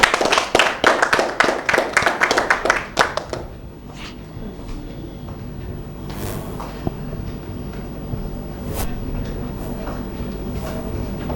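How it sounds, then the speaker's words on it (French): At a Miss High-Tech Cameroon pageant show, an audience bursts into a loud run of sharp, rhythmic claps that dies out after about three seconds, leaving a quieter room with scattered faint sounds. "Et vous prie d'applaudir, pourquoi pas."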